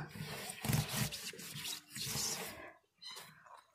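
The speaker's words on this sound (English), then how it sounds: "I usually just rub it with my hand and then dump it out" A hand rubs the inside of a pig's water jug and swishes water around, then dumps it out, with wet sloshing and rubbing in bursts, a brief pause, and a final splash, close and moderately loud.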